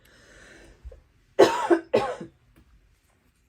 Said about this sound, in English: Sorry, I feel like I'm going to cough.